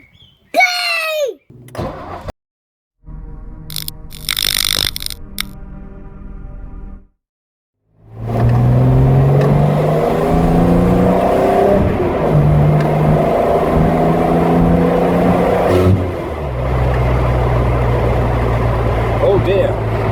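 A Ford Capri with a bandaged exhaust cranks and starts, then idles and revs with a loud, rough rumble. Brief speech and handling noises come before the engine.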